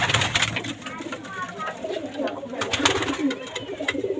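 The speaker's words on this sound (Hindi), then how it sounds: "कबूतर दिखाता हूँ आपको" Pigeons coo and call in a loft of newly acquired birds, a steady murmur of soft bird sounds close by with a voice talking over them.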